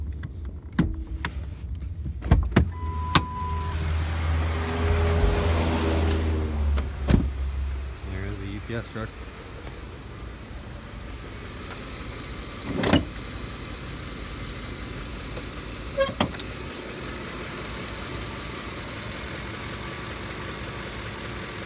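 A 2009 Ford F-150 Lariat with a 5.4 engine and nearly 200,000 miles idles with the hood open, a low steady hum under sharp clicks and clunks, with a person speaking briefly.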